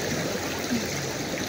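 A strong river current rushes past close by in a steady, loud, unbroken flow, heard briefly with no talking.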